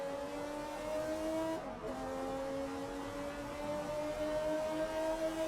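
McLaren race car in a Spa racing video game, engine droning at high revs with a short dip and recovery, steady close engine tone with faint tyre noise under it.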